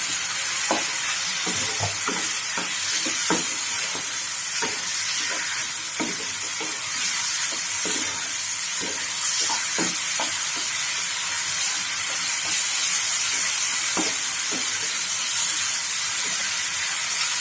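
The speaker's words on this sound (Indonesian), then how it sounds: "Tetap kita tumis dengan api besar ya" Steady loud sizzling of green chilies stir-frying over high heat in a hot pan with splashes of water, with repeated scraping and clacking of a spatula against the metal, close up.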